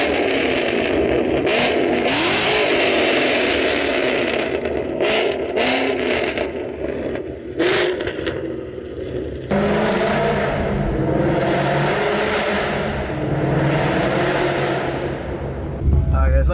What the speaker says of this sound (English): I'm about to give you guys some really good revs